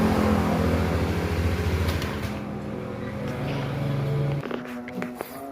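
A Honda Beat scooter engine with a fault is revved up, its steady loud drone holding for about four seconds before dropping away abruptly, followed by brief clicks and a lower, quieter tone.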